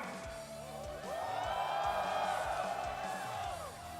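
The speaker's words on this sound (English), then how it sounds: "They're still cheering for you now." Chinese fans cheering at an esports grand finals, a sustained wash of many voices shouting and whooping from an arena crowd, swelling in the middle and easing off toward the end.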